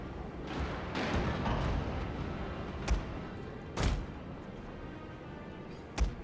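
Naval guns firing explosive shells in a Total War naval battle with ironclads, heard as three sharp, distant booms spaced a second or two apart over a steady rumbling battle din.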